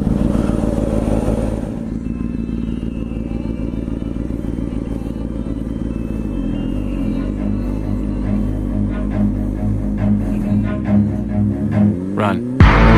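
A motorcycle engine runs loud and close, steady rumbling with clattering mechanical texture, then revs up near the end as the bike pulls away.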